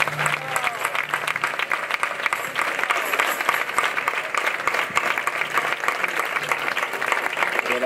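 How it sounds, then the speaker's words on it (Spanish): Steady crowd applause from a congregation at a Virgen del Carmen mass in El Ingenio, dense sustained clapping that fills the space evenly from start to finish with no break. "Vamos a darle un buen aplauso"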